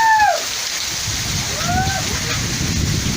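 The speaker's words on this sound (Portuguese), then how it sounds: "a chuva tá forte já" Heavy rain pours down on a rural farm at night in a steady, close wash of noise, with a few high whistling tones near the start and middle.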